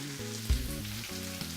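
Jerk spaghetti with vegetables in the Jamaican style sizzles steadily in a frying pan, a constant close fry with a brief stir or bump, under a low musical background.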